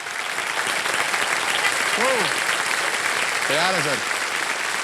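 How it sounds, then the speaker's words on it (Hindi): Studio audience on a TV quiz show claps steadily for the contestants, broadband applause filling the whole stretch while a host's voice rises over it twice with short spoken lines. "तालियां बज जाए इन लोगों के लिए"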